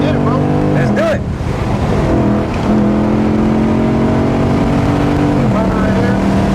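Toyota A90 Supra accelerating on a race track during a track meet, engine revving up through gears with rising pitch and shift drops, loud and close from inside the car, with a passenger's voice briefly over it.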